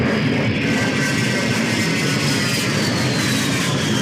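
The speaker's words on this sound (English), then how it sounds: "It's not a quiet plane." A loud military plane flying overhead, a steady, close engine roar with a slowly falling whine that fills the whole stretch without pause.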